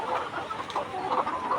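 Layer hens in a poultry shed, panting in the afternoon heat under running fans, give a steady mass of overlapping clucks and murmurs close by, with no voices.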